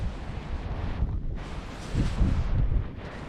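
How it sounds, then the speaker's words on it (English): Strong wind outdoors on the Isle of Arran, a near, rumbling roar of gusts buffeting the microphone that swells and eases in waves, with faint rustling beneath and no talk. "When the wind like blows so strong, it actually scares me."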